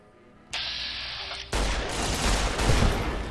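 Automated turret gunfire in Fallout: New Vegas, a sustained rattling burst after a brief mechanical whir, loud and continuous to the end.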